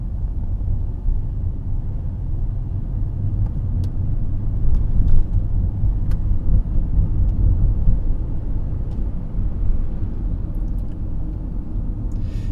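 Car driving along a road through Kofinou, Cyprus, heard from inside as a steady low engine and tyre rumble, continuous and close, with faint clicks and no talking.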